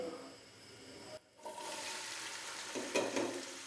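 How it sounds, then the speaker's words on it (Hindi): Onions hitting a pan of lightly roasted whole spices for a beef onion curry: a brief hush, then a rising, steady sizzle of frying with a few louder crackles and stirring, fairly quiet overall. "साबुत खड़े मसालों को हमने हल्का सा रोस्ट कर लिया है। अभी मैं इसके अंदर प्याज डाल दूंगा।"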